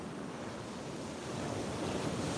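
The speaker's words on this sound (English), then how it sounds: "And back to our beautiful waves." Ocean waves wash steadily onto a beach at sunrise, a continuous broadband surf roar that swells slightly louder toward the end, with some wind noise on the microphone and no voices.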